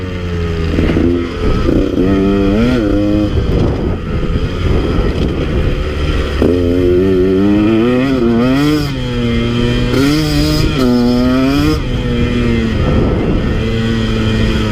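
A KTM 150 XC W two-stroke dirt bike ridden on a trail in Idaho, its engine loud and close throughout, repeatedly revving up and dropping back as it climbs through gears, with no talk.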